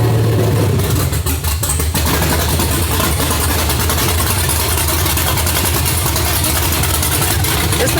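Loud, rough idle of a cammed, untuned 2003 truck engine with open headers, a choppy, loping rumble and broadband roar, steady throughout with no talking.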